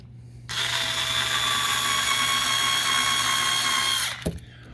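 A power drill driving screws whirs steadily for about four seconds at close range, then winds down and stops with a brief clunk.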